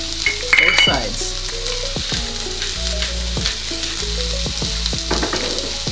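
A burger patty seasoned with kosher salt and black pepper sizzles in a pan for a homemade McDonald's-style hamburger, a loud, close, steady crackle with a few brief scrapes and pops and no speech.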